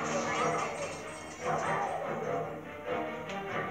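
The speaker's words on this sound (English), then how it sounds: "Oh, doggy." A dog barks in the Luigi's Mansion video game, a few yapping, whimpering game barks spread across the moment and mixed with busy game sounds and people talking over them.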